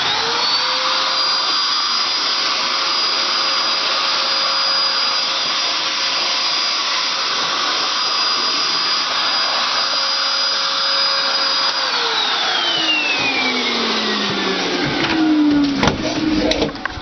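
A Eureka Rally 2 canister vacuum cleaner runs with a loud, steady whine that holds constant, then drops in pitch as it winds down near the end, followed by a few clunks.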